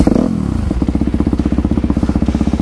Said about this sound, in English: Got that Two Brothers exhaust, man. Sounds good.